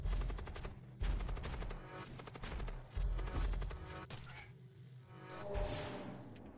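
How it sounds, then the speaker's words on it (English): Missiles and weapons fire hitting a spaceship in the video game Void War, rapid repeated blasts and crashing impacts in bursts with a whooshing sweep near the end. "I need them to stop shooting missiles at me."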